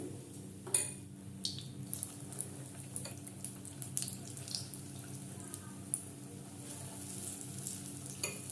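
Pointed gourd coated in gram flour batter fries in hot oil, making a soft, steady sizzle and bubbling close by with a few small clicks and clinks of a utensil over it.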